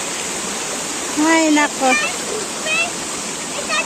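River water rushes and flows in a steady broadband wash close by, with people's voices calling briefly over the water noise.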